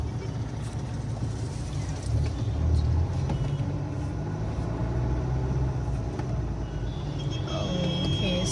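Road traffic on a highway in Tamil Nadu, where many of the vehicles are yellow auto rickshaws: a steady engine rumble and tire roar with a few faint horn toots, while people talk over it.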